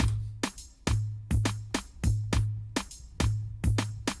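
A programmed drum loop for beginner producers, a variation on a basic beat: sharp clap-like hits and hi-hats over sustained low kick thumps in a steady repeating pattern, loud and close, with no talking.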